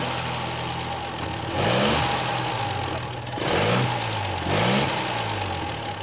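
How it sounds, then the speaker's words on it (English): Bentley 3.5-litre straight-six engine running, a smooth low idle broken by three brief revs that swell and fall back, close and fairly loud with no voices. "The low center of gravity and flexible straight-six engine immediately won over a lot of hearts."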